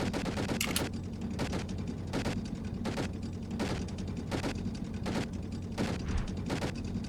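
Vehicles in the video game Toy Defense 2 fire steady bursts of gunfire, loud rapid volleys repeating in a regular pulse over a constant mechanical rumble, with no talk.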